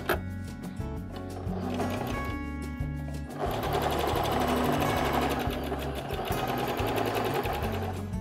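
Sewing machine stitching along the edges of a coat, running in steady rapid bursts with a brief pause near the three-second mark before a louder continuous run.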